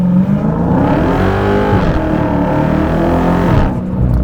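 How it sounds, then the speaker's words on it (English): A 2023 Dodge Challenger Hellcat Jailbreak floored at full throttle in first gear in 500 horsepower mode, its supercharged engine roaring loud and close as the revs climb steadily, with no voices. "Let's floor it in first gear here."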